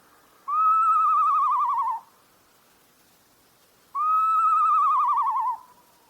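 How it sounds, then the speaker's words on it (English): A northern saw-whet owl gives two long, clear, wavering whistled calls, each about one and a half seconds long, separated by a short silence against a quiet background. "it's a northern saw-whet owl."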